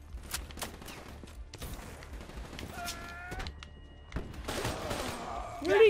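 A gun turret firing in Call of Duty: Black Ops 3 sounds as a scattered series of sharp bursts and impacts amid busy game noise, with tonal electronic cues in the middle and a louder burst at the end.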